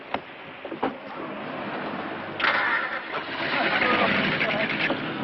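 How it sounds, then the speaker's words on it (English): A boat engine on a reef diving vessel cranks with a few sharp clicks, then catches and settles into a steady mid-pitched running rumble, with voices talking over it. "start the engine,"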